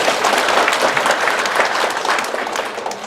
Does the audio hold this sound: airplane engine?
no